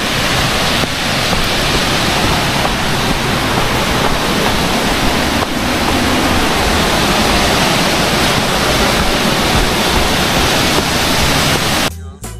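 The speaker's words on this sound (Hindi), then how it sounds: "I can see the waterfall." A broad, continuous roar of falling water at Rerekawau Falls in New Zealand's Kaiate Scenic Reserve fills the air, steady and loud throughout before cutting off abruptly at the end.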